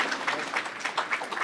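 Audience applause at a historical society dinner, a steady wash of many hands clapping at close range with no voices over it.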